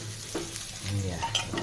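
Vegetables, with chunks of gourd among them, frying in hot oil, making a steady close sizzle with light stirring scrapes. A low hum runs underneath, and the sizzle swells about halfway through.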